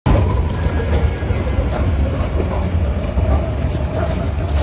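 An Israeli metro train running through an underground tunnel about 100 metres below ground, a loud, continuous low rumble with steady rolling rail noise close by and no break.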